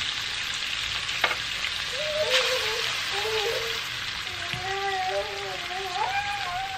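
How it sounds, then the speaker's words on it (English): Ackee and salt fish simmer on low heat with a soft, steady crackling sizzle, while a voice sounds intermittently over the cooking noise. "I'm just gonna let it simmer on low heat"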